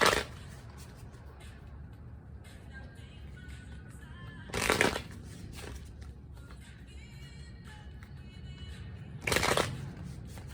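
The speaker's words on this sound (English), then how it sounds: "I'm going to go ahead and begin shuffling" Two brief bursts of tarot cards being riffled, close by, separated by a few seconds of quiet room tone with faint rustling.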